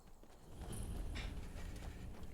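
Horse hooves clip-clop steadily in a cold fantasy video game setting, a continuous walking rhythm up close, layered over low ambient rumble with no talking.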